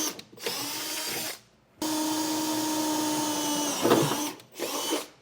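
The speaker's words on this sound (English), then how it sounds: "But for now, let's get all of our 9/16 drilled out." A drill with a long bit bores 9/16-inch holes through the bed of a 2020 Ford F-250 pickup, running in three sustained whining bursts, the middle one longest, with brief quiet gaps between them.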